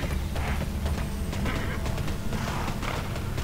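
Rhythmic horse hoofbeats clatter along at a quick pace beneath a steady, dense wash of game ambience in Tera Online.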